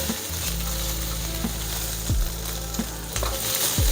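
Eggs being scrambled and frying in a pan while making shrimp fried rice, a dense steady sizzle with periodic scraping strokes and a low mechanical hum beneath, no voices.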